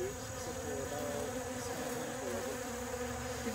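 Bees buzz steadily and continuously around a farm, a dense, droning hum with several overlapping tones and no pauses.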